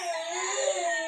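A young child fusses and cries in a quiet indoor space, a steady, high, wavering wail running without a break for about a second.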